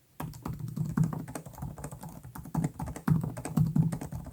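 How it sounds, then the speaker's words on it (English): Rapid, light clicking of a Lenovo LOQ gaming laptop's keyboard being typed on, steady bursts with brief pauses, close and fairly quiet; the keys have plenty of travel and sound clicky. "Its keys have plenty of key travel and they sound nice and clicky."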